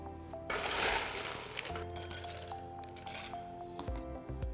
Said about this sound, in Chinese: 再稍微装一点冰块的部分。